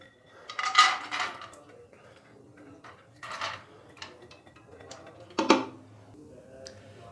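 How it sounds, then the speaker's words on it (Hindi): Soaked, drained chana dal is tipped into a pressure cooker in a home kitchen, giving a few scattered clattering pours and metallic rattles of lentils against the pot, fairly soft and close. "तो दाल चना डाल देंगे प्रेशर कुकर के अंदर।"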